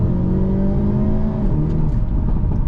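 A 2025 Hyundai Elantra N engine held at high revs, a loud, steady, droning engine tone with a slight pitch shift midway, heard close from inside the car without talk.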